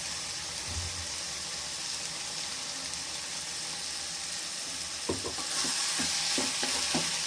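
Soft sizzling of ground garlic and ginger paste frying in a pan for meal maker gravy, with a few clinks of stirring near the end; no voices.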